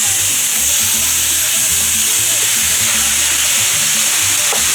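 Ground beef chuck browning in a pan on the stove for tacos gives a steady broadband sizzle throughout, with soft low scraping knocks from stirring and chopping underneath, close and continuous with no talking.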